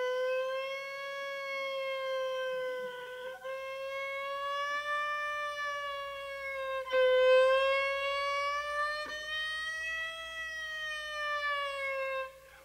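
Fiddle imitating a police car siren, a sustained bowed tone rising and falling in slow wailing sweeps with rich harmonics, loud and continuous without voices.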